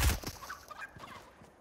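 A video game chicken clucks and gobbles in a few short, fairly faint bursts, with a sharper sound at the very start.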